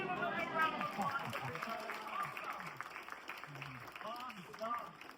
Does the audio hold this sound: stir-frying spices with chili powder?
no